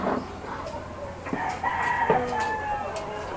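Chickens cluck and a rooster crows close by in a small rooftop chicken coop, with several overlapping calls across a few seconds.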